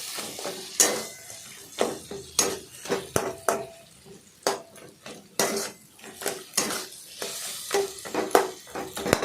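Green chillies are stirred in a frying pan while cooking fish head and aubergine mash, with a steady sizzle under repeated sharp scrapes and clacks of a spatula against the metal pan, close and fairly loud.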